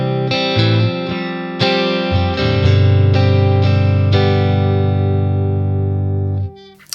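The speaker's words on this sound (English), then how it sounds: "let's get started with the Strat, clean channel, and actually let's start with the reverb" A Fender Stratocaster played through a BOSS Katana 50 amp on its clean channel with reverb rings out in close, loud plucked notes and chords that sustain and decay softly, with no one talking.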